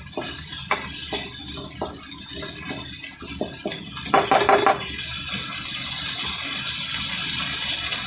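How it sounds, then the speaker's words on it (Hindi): Half a cup of water gushes into a cooking pot while making pea-layered biryani, a steady splashing pour that runs loud and continuous, with a brief brighter surge partway through. "आधा कप पानी डाल देते हैं इसको।"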